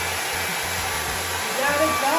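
A hair dryer blows steadily on a braided wig, a continuous close airy whoosh with a low hum, rising slightly toward the end.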